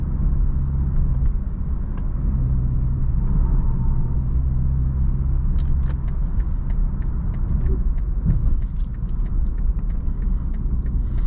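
A 2020 BMW 330i driving on the road, heard from inside the cabin as a steady low engine and tyre rumble, with light rattling knocks from the road surface toward the end, no talk.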